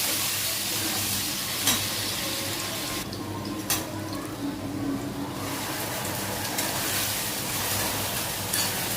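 Onion frying in a pan with dried chilli and bay leaves, a steady close hiss of hot oil with a few scattered stirring clicks and a brief quieter moment midway, no voices.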